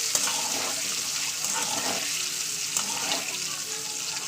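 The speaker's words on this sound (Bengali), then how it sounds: "দেখতে পাচ্ছেন ডিমটা ভাজা করে নিচ্ছি" An egg fries in mustard oil in a wok, giving a soft, continuous crackling sizzle at a steady low level, with a few small pops and spatters and no talking.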